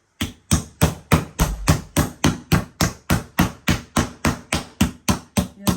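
A meat mallet pounds chicken flat in steady, evenly spaced blows, about three per second, each a sharp close thwack on the board, with no talk over it.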